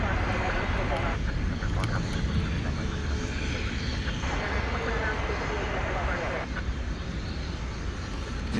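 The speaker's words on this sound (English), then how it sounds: "as we watch that MD-11 turn and leave our field of vision" An MD-11 cargo jet taxis and turns at DFW Airport at night, its steady engine roar broad and continuous, with a commentator talking over it.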